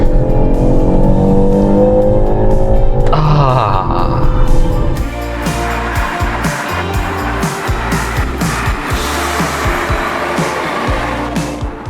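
A BMW 530e M Sport LCI (2022) plug-in hybrid's engine revs high and holds on launch control, then the car launches hard, roaring loudly and rising through gears as it accelerates away.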